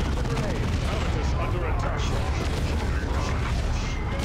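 Gunfire and grenade explosions from the strategy game Warhammer 40K: Dawn of War 2 Chaos Rising, a loud, dense, continuous rumble of battle with bursts of shots and booming blasts throughout.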